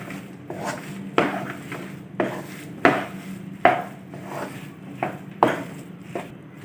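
A spoon scraping and knocking against a wok while egg halwa with raisins is mixed off the heat, sharp, evenly spaced strokes about once a second, close and clear with no talking.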